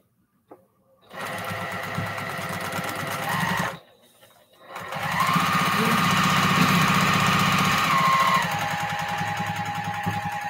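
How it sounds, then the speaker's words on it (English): A sewing machine stitches log cabin quilt blocks in two loud, close bursts of steady motor whirring, separated by a brief pause, with a faint tone during the second run. "I usually would get up and be sewing like this, y'all."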